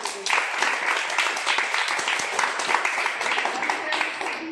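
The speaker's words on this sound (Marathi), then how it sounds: "त्या दादासाठी जोरात टाळ्या" Loud, sustained applause from a school audience at a children's environmental play festival, honouring the director of the play; dense clapping continues steadily throughout without pause.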